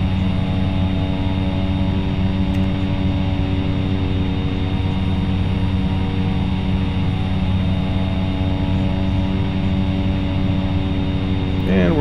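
The propeller engine of a Cessna 208B in flight in the X-Plane 11 simulator drones steadily, a loud, even tonal hum holding constant throughout with no talking.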